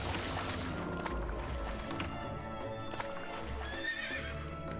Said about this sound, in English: Oh gosh, we got horses.